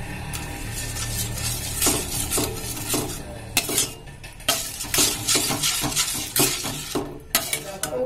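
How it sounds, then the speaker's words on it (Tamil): White sauce for macaroni is stirred in a metal pan, producing loud, repeated scraping and clinking of a utensil against the pan in an uneven rhythm, with a faint sizzle underneath and no voices. "இப்ப இத நல்லா அப்படி கலந்து விட்டுக்கோங்க"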